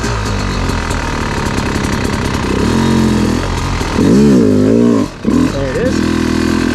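A hard enduro dirt bike engine labours loudly up a rocky obstacle, its throttle rising and dropping in uneven revving bursts with a brief cut, close and continuous.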